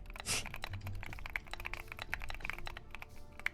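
Fingers type on a computer keyboard in quick, irregular bursts of close, crisp clicks and taps that run throughout, with no talking over them.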